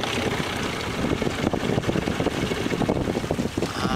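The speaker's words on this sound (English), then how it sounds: "All right, we got the sails up, we're catching a little wind. I'm gonna kill the outboard." A sailboat under sail with its outboard motor shut off, steady broadband wind rushing past over water with fluttering gusts throughout, no engine and no talking.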